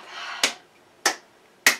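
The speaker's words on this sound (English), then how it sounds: "just for fun, we can clap" Three sharp, separate hand claps at the close of a short yoga practice, evenly spaced about half a second apart against a quiet room, each crisp and near with a brief decay.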